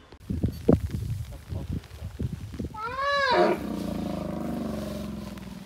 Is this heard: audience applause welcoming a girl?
no